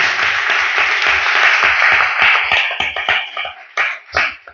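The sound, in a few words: loud applause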